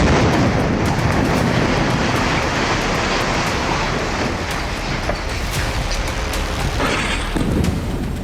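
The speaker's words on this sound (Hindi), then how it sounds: "शहर के एक और आवासीय टावर पर बमबारी की है, उसे पूरी तरह तबाह कर दिया है।" Heavy bombardment of a residential tower in Gaza City comes through as a continuous loud, rumbling roar of blasts and debris, broad and dense throughout, with sharper cracks near the end.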